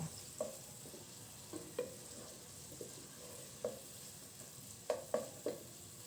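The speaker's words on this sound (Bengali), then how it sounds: "তো আমি এটা একটু মিডিয়াম আঁচে দিয়ে নাড়াচাড়া করছি" Onion frying in a pan for chicken biryani, stirred over medium heat, with scattered faint spoon clinks and scrapes over a soft, low sizzle.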